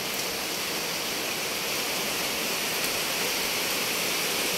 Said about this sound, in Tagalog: Baha na naman.